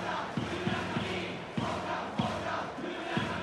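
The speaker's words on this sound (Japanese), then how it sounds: "大きな声援が届いています。" Stadium crowd in the baseball video game Powerful Pro Baseball, a steady roar of cheering with rhythmic chanting and drum-like beats pulsing through, continuous and fairly distant, with no talk.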